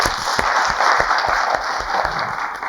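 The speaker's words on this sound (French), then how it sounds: "On va applaudir." A studio audience on a talk show applauds steadily, a dense wash of many hands clapping for a few seconds at moderate loudness, with no talk over it.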